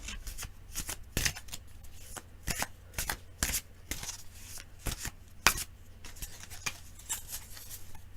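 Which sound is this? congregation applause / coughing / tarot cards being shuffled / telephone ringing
tarot cards being shuffled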